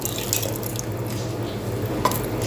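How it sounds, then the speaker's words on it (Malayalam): Water running steadily into a cooking pot while making semiya payasam in a home kitchen, a continuous close splashing flow with no voices. "നമുക്ക് ഈ പാത്രത്തിൽ കുറച്ച് വെള്ളം ഇട്ടിട്ട് മിക്സ് ചെയ്താൽ കൂടെ ഇടാം."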